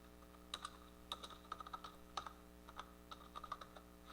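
Computer keyboard typing while an HTML comment is written, with quiet, irregular clusters of key clicks over a steady low hum and no speech.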